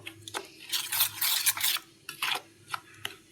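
Spiced pea and potato pakora batter worked by hand in a bowl: a series of close, wet, gritty stirring and rubbing strokes in uneven bursts, with no talk.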